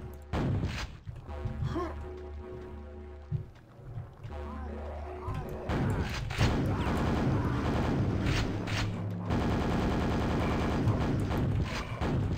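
A weapon fires rapidly in Quake: Dissolution of Eternity, dense bursts of repeated shots over a busy game soundtrack, with a brief lull before the firing resumes louder and steadier toward the end.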